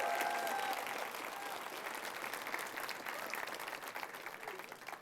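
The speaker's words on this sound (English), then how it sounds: "Can we give a big round of applause to those 3 individuals?" A crowd applauds scholarship recipients at a community event, with dense, steady clapping that carries on without a break.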